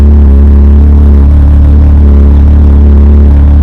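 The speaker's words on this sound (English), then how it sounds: "Let's listen to its rumble." A Ferrari 488 Pista Spider with quad exhaust, idling close by with a deep, steady low rumble that holds even throughout, with no talk over it.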